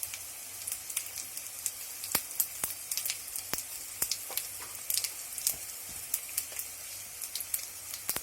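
Curry leaves and turmeric sizzle in hot oil for coconut rice, a steady close crackle with sharp spitting pops scattered throughout, no voices.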